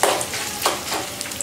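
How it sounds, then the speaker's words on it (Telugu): Cumin, mustard seeds, urad dal and a torn dried red chilli fry in a tablespoon of hot oil for a tempering, giving a close, bright sizzle with spatters and stirring and no talking. "1 టేబుల్ స్పూన్ ఆయిల్ వేసుకోవాలి. ఇక్కడ చూడండి జీలకర్ర, ఆవాలు, కాస్త మినపప్పు, ఒకటి ఎండుమిర్చి ఇలా చింపేసి వేసుకోండి."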